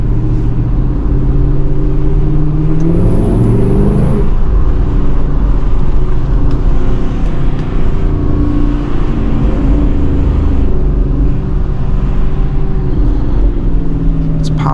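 Dodge Charger R/T AWD at night in 20-degree cold, heard from inside as a loud, steady engine and exhaust rumble through acceleration, with a few faint pops, under occasional talk.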